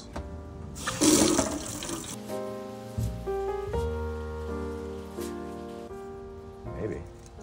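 Water runs and splashes briefly as a Mauser VZ 12/33 rifle part is rinsed during restoration, followed by a quieter stretch with clinking and ringing tones.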